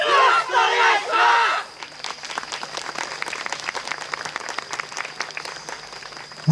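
A festival crowd claps along in steady rhythm for a yosakoi dance performance after a burst of cheering voices, the clapping fairly loud and continuous with a faint sustained tone underneath.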